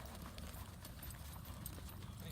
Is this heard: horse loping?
yes